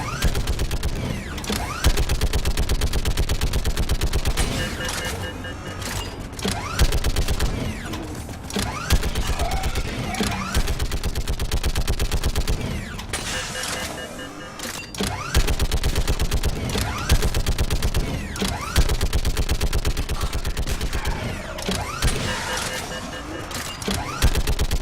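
Turret gunfire in the video game Mass Effect 3, a loud, dense stream of rapid automatic shots with mechanical creaks, broken by short pauses between bursts, with a voice talking over parts of it.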